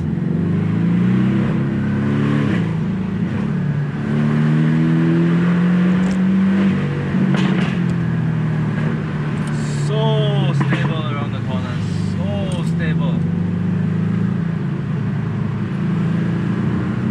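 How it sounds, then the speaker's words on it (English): A Porsche Boxster's naturally aspirated engine drones and rises in pitch as it accelerates, loud and steady throughout, with a few brief higher squeaks partway through. "produces glorious naturally aspirated engine sounds"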